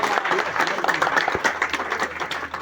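Applause from an audience at a political youth gathering, a steady wash of clapping filling the whole stretch with crowd noise mixed in.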